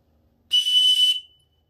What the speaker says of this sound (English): the next little piece is a whistle